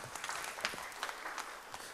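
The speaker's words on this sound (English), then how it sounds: "Give her a round of applause" Light applause from a modest gathering, sparse and somewhat distant, with individual claps popping out irregularly over a soft background for about two seconds.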